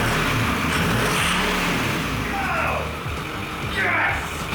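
A Ford 6.4 Powerstroke diesel truck engine rumbles and revs up and down nearby, a deep throaty growl that rises and falls in waves.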